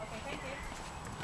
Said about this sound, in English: Wartat, aren't you a funny horse, Wartat?